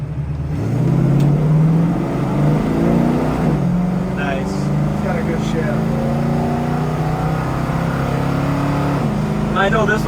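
A 1970 Ford Mustang Mach 1 pulls hard under acceleration, its engine note climbing, dropping at each gear change and climbing again in a steady loud run, with someone talking over it.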